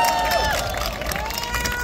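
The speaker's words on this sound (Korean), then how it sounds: "박수 한번 주세요." A crowd at a presidential candidate's outdoor campaign rally in a large sports stadium claps and cheers, a loud continuous roar under a voice speaking over it.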